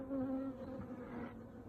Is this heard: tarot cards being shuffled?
no